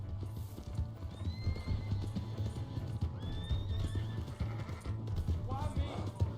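In the Red Dead video game, a horse's hooves clip-clop at a gallop beneath a low rumbling bed while it neighs and whinnies, with people talking over the action.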